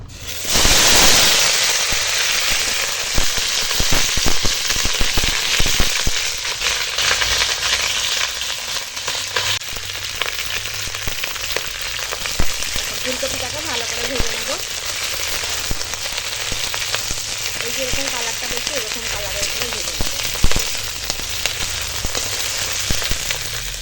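Cauliflower pieces fry in hot white oil in a wok, making a loud, dense, continuous sizzle that bursts up at first and then settles into a steady crackling hiss.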